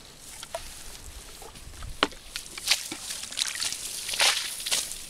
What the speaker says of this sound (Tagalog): saboy ng tubig.